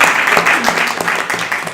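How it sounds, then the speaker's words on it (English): Audience at a live talk event clapping for young people, a brief burst of dense applause with a few distinct sharper claps standing out, loud and close. "would we be able to get a clap for these young people?"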